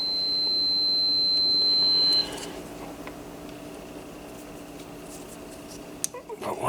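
A continuity tester's steady high beep rings clearly for about two seconds during repair of a Sonotone Model B-131 radio, then stops, leaving faint room noise and small clicks from handling.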